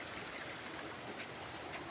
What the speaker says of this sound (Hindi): पंचक्की इधर है तो पानी आज भरपूर है